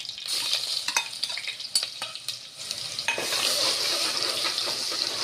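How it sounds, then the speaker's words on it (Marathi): Ginger garlic paste with cinnamon and bay leaves sizzles steadily in hot oil in a pan, with occasional stirring clinks and scrapes, close and fairly loud, no talking. "हा अद्रक लसूणला थोडा कलर येऊ द्यायचा"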